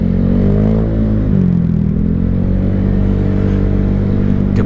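A Honda motorcycle with a standard exhaust idles and revs slightly close by, a low, steady rumble without much change in pitch.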